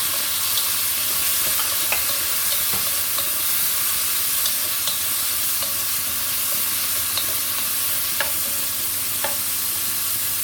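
Garlic, onion, ginger and tomato sauté in a pan for ginataang gulay with clams, a dense, constant sizzle with scattered light taps and scrapes of a utensil stirring.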